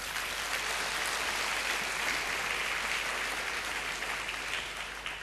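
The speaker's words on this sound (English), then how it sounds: "Please give yourself a round of applause." Graduates applaud at a polytechnic graduation ceremony, a dense and even roar of many hands clapping that holds steady throughout at a moderate, slightly distant level.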